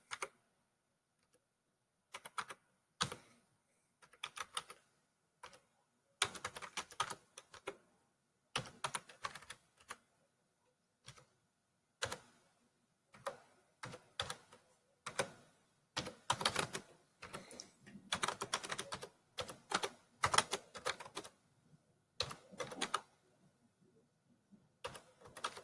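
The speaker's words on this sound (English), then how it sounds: "I have to type in all this." Typing on a computer keyboard, irregular bursts of close, crisp key clicks separated by short pauses, alone without speech.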